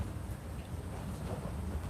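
Faint, steady rain hisses as a continuous, even wash of noise with no distinct drops or voices.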